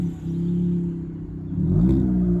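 A Fiat Panda's engine hums steadily from inside the car while driving on a country road, then swells in a rising rev as the car accelerates.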